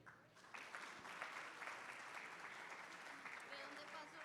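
Audience applause welcoming a specialist to the stage at a university lecture session, a faint but steady burst of many hands clapping that holds evenly throughout.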